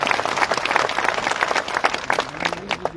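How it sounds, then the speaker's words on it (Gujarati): Loud, dense applause fills a hall at a farmers' meeting for the new Banas Bank chairman, many hands clapping in a sustained wash that thins slightly toward the end. "ફરી પાડો તાળીઓ."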